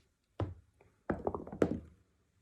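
A die rolled on a tabletop during a board game, a few sharp wooden knocks and clattering taps close by, quick and then settling into quiet.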